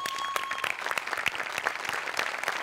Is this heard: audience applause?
yes